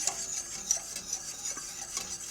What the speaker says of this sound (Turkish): Birazcık daha karıştırayım.